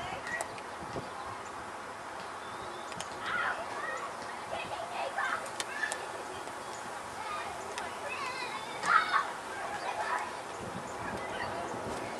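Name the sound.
birds calling outdoors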